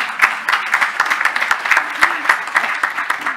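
A smallish conference audience claps in a short, close round of applause. The hand claps are dense and uneven, with a few sharp individual claps standing out.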